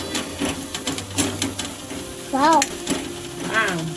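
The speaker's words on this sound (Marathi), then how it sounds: "आता मसाला टाकले आता मिक्स करूया मिक्स करूया" Garlic, red chilli and masala stirred in a hot pan for okra seed curry, a near scraping and sizzling with regular spoon strokes against the metal, joined by a brief voice-like warble and faint chatter in the background.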